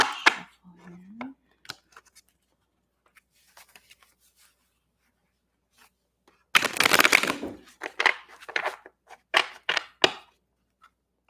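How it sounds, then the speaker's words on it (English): Tarot cards being shuffled by hand, a few faint riffles and taps early, then a burst of brisk, close riffling and bridging in several quick clusters toward the end. "one more shuffle here"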